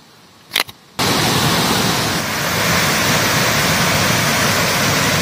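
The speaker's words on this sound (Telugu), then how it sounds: "వాటర్ ఫాల్స్ అయితే చాలా బాగుంది" Kothapalli waterfall in Alluri district roars as a loud, dense, continuous rush of falling water, close by, after a brief quiet start with a couple of small knocks.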